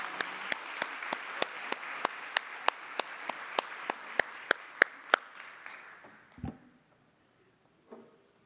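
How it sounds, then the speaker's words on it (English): An audience at a nursing awards ceremony applauds the award recipients, fairly faint, with sharp, evenly spaced claps standing out over the patter before it dies away into near silence. "So let's please give another round of applause to all of these award recipients."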